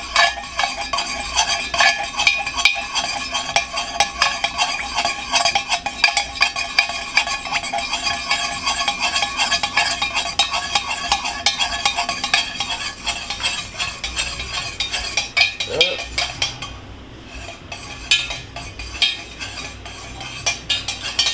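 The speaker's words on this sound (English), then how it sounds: "I'm stirring. And I'm stirring." Melted candle wax is stirred in a pot with a metal utensil, giving a steady, close, loud scraping and clinking rhythm that runs continuously for about twenty seconds, briefly easing near the end, with no talking.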